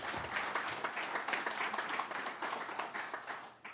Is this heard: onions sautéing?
no